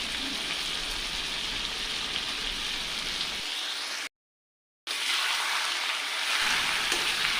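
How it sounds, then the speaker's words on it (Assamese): Duck meat frying in a pan with cumin powder, a steady dense sizzle throughout that cuts out briefly mid-way before resuming. "জিৰাৰ গুড়িখিনি দি লৈ মই আকৌ ভাজি লৈছোঁ"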